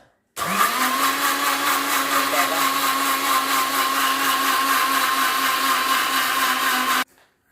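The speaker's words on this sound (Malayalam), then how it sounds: "നമുക്കിതൊന്ന് നല്ല രീതിയിൽ ബീറ്റ് ചെയ്തെടുക്കാം" An electric blender whirs into cold coffee, starting abruptly, holding a loud steady high-pitched drone for about six and a half seconds, then cutting off sharply.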